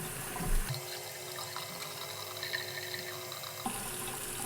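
Tap water runs steadily while a duduk reed is rinsed clean at a sink, a constant close hiss with faint splashing and a brief louder gush near the start and end.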